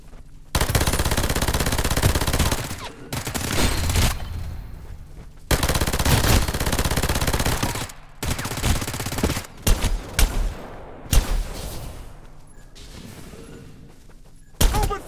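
Automatic gunfire in the battle-royale game Farlight 84 during a treasure war match. Loud, dense bursts of rapid fire come in long sustained volleys with brief gaps, ending in sharper isolated shots.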